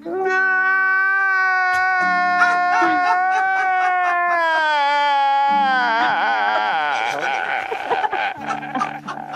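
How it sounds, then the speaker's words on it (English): Several high, wavering wailing voices sob and howl together, loud and drawn out, like an exaggerated crowd weeping. "That's the sound of nerds everywhere crying"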